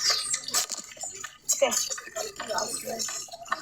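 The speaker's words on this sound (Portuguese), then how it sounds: "só tô mexendo na água" A hand stirring water in a stream, with irregular splashes, drips and trickles close by, the sloshing coming in uneven bursts while a person talks over it.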